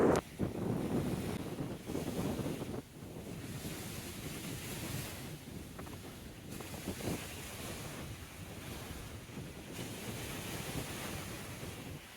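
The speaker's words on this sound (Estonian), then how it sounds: "Laine hakkab vist üle pea viskama." Rough sea waves breaking near a lighthouse, with a continuous wash of surf mixed with gusting wind buffeting the microphone, close and loud, with no talk.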